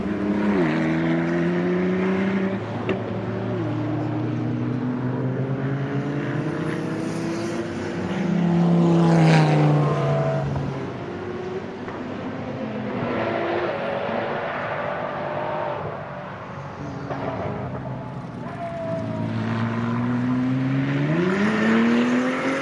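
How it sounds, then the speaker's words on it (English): A modern Ford GT sports car on a race track at a speed festival, its engine rising and falling through repeated loud acceleration runs and gear changes as it passes, sometimes near and sometimes more distant, without talk. "Now let's listen in on the Ford GT"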